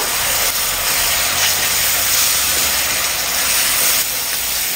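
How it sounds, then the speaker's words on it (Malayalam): Crushed shallots sizzle steadily in a pan of fried chilli powder as they are stirred in, a loud, continuous close-up hiss with no voices. "ഇനി ഇതിലേക്ക് ഉടച്ച് വെച്ച് ഉള്ളി ചേർത്ത് കൊടുക്കാം. ഒന്ന് ഇളക്കി കൊടുക്കുക."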